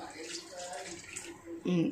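Water is poured from a glass into a kadai while prasadam is being cooked, a brief splashing gush near the end that follows a stretch of someone talking over faint background noise.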